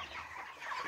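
Broiler chickens in a farm flock cluck softly in a short, faint burst with no voices.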